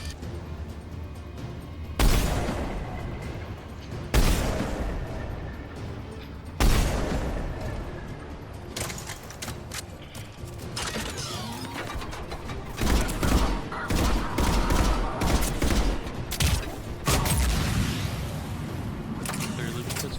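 Turret gunfire in Mass Effect 3 on Insanity difficulty: heavy booming shots and rapid bursts of fire come in loud, repeated waves over a dense battle din, with voices talking underneath.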